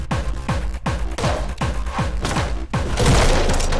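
Rapid gunfire from the video game Anger Foot rings out in a fast, loud, evenly spaced burst of booming shots, ending in a denser blast of noise; no voices are heard.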